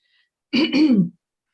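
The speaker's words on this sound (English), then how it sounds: "my allergies are causing me to cough a lot today" A single short, throaty cough, close and sharp, with silence before and after.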